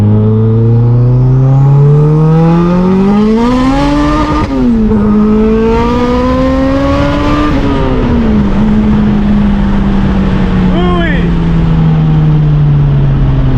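AWD Honda Si car accelerating hard from inside, engine note rising through the revs with gear shifts, loud and close, ending in a steady high drone; people talk over it.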